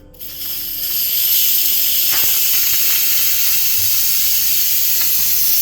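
Instant Pot electric pressure cooker venting steam through its release valve, a loud, steady hiss that surges within the first second and holds unbroken, close and alone, with a faint clink partway through.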